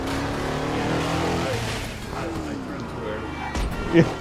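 Cars racing in Burnout Paradise Remastered on Nintendo Switch, engine roar and tire noise building to a short crash impact near the end, with people talking over the game sound.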